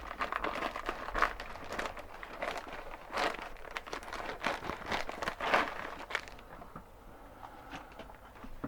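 Cutting open a mail package from a bead haul: soft crinkling and crunching of packaging and scraping of a blade, close and fairly quiet, in irregular bursts that fade near the end.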